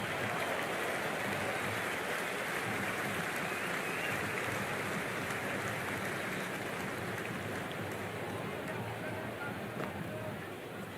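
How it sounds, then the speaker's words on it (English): A cricket ground crowd in the Cricket 26 video game roars as a steady, dense wash of noise, loud and unbroken for the whole stretch, with a commentator talking over it. "the crowd have joined the party. It's pretty noisy at the ground"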